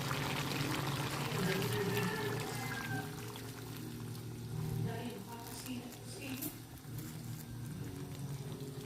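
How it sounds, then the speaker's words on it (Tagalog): Coconut milk pours steadily into a cooking pot of native chicken with lemongrass, a continuous liquid stream heard up close over faint kitchen background. "Ilagay na po natin ang gata"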